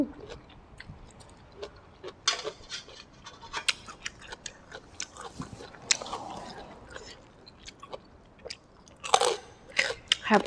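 Close crunchy chewing of spicy fermented-fish papaya salad eaten with crispy pork rinds, with irregular bites and crackles spread across ten seconds, some louder snaps near the end.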